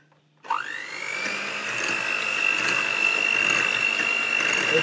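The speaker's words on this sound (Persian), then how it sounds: "خامه صبحانه رو با همزن باید به اندازه بزنیم که یه مقدار خامه سفت بشه" An electric hand mixer starts up abruptly and whirs steadily at close range while whipping breakfast cream for strawberry ice cream, a continuous high motor whine with no talk.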